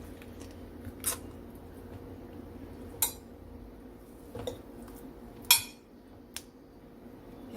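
Several soft thuds and clinks as boneless pork chops are dropped into a ceramic crock pot, spaced irregularly over a quiet background hum.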